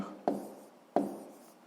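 Pen or pencil writing numbers on paper while working a sixth-grade math exercise: two short, close scratchy strokes, quiet and without talk.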